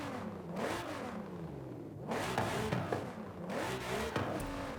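A V8 car engine in Forza Horizon 5 revs repeatedly, rising and falling in pitch through several loud, close pulls with brief dips between them, and no voices.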